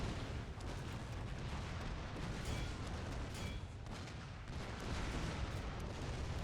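Gunfire in the video game Shogun 2: Fall of the Samurai rumbles as a dense, continuous wash of distant volleys and booms, steady and fairly quiet, with no voices.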